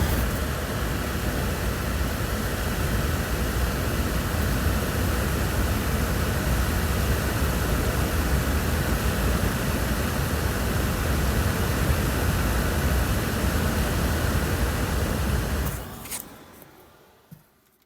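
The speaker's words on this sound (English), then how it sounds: "here's the dehumidifier we run to keep the room nice and dry" A dehumidifier runs in a chilly seed cold room at about 10 degrees Celsius, giving a steady, even broadband whoosh and hum that holds constant for a long stretch before dropping away near the end.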